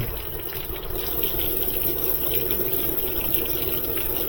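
Water pours into a Whirlpool washer tub through its hot and cold water valves, a steady rushing fill that stays constant and close throughout.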